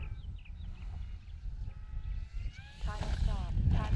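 A Draco RC airplane's engine buzzes faintly in the distance during a landing approach, then throttles up with a rising whine toward the end, with wind noise and someone talking.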